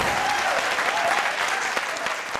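Studio audience applauding steadily on a Taiwanese TV quiz show, a dense, even wash of clapping that holds at full strength for the whole stretch, with no voices over it.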